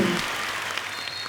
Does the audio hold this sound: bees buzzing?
no